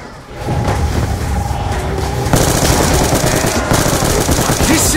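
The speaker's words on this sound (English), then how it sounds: "I can just literally run through the zombies holding the trigger on my ray gun" Ray gun fired continuously in Call of Duty Zombies, a dense, loud, unbroken barrage of blasts that grows harsher partway through, with a voice briefly audible under the firing.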